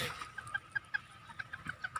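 A fighting cock offered for sale clucks in a quick series of short, sharp, evenly spaced clucks, close by and fairly quiet, with no talking over them.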